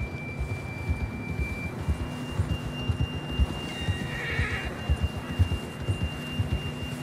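Horse in the Red Dead Redemption 2 video game whinnying once in the middle, over a steady bed of hoof clip-clops and low ambient game music.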